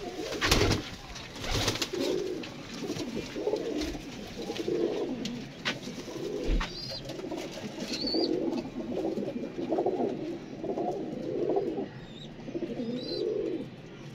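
Teddy Rampuri pigeons coo nearby in a steady run of soft, throaty, rolling calls repeated every second or so, with a few faint chirps and occasional handling thumps around them.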